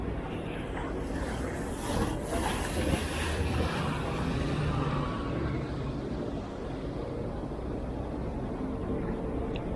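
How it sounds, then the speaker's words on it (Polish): A water bus engine rumbles steadily as the vessel moves across the Venetian Lagoon near Venice, with wind buffeting and splashing throughout. "Jedziemy już tramwajem wodnym."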